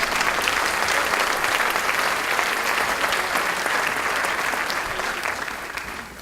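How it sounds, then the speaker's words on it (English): An audience at a hospital gala evening with the stars applauds a doctor called up as a volunteer: sustained, full-room clapping for about six seconds, gradually thinning and fading toward the end. "Big hand of applause for Dr. Bartels"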